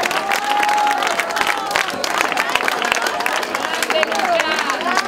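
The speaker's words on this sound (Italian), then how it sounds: "Applauso al primo classificato." Applause and cheering from a crowd at an X-Terra triathlon race finish, dense steady clapping with whistles and voices mixed in, loud and sustained throughout.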